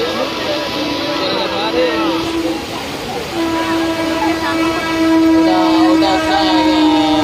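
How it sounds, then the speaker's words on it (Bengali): A train rolls across a railway bridge above floodwater, a steady loud rumble with a sustained horn-like tone running through most of the stretch, while a voice talks over it. "রেলপুল উপরে রেল যাচ্ছে, নিচে জল।"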